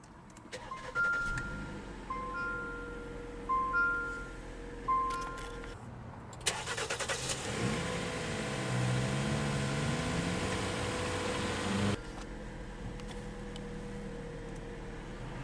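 A 2020 Jeep Compass Limited 4X4 started by push button: a few chimes, then the starter cranks and the engine catches with a rising rev before settling into a steady, quieter idle.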